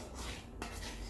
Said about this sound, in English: Coconut milk come into a boil. And just stirring.